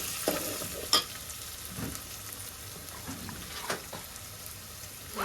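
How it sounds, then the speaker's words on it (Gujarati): Homemade tomato sauce hits sautéed onion in a hot pan, giving a steady frying sizzle broken by a few sharp scrapes and clinks of stirring, close up and with no talk, in a rural home kitchen. "હવે આપણે જે ટમેટાનો સોસ બનાવ્યો છે એ નાખી દઈએ અંદર."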